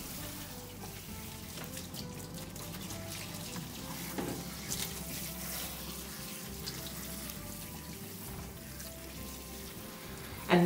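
Water runs steadily while shampoo lather is rinsed from a Westie-type dog's coat, a continuous splashing hiss from a nearby tap with no talking.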